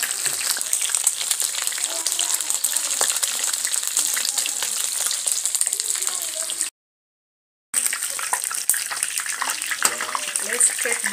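Food deep frying in hot oil over a village cooking fire in Africa, a steady dense crackling sizzle that fills the clip and stops briefly near the end before resuming.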